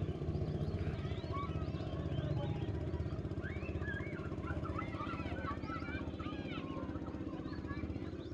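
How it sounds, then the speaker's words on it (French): A small boat on the Gambia River, powered by a lawnmower engine, runs with a steady, droning putter throughout, while birds chirp faintly in the background. "c'est pas un hors-bord, c'est un moteur à tondeuse qu'il a"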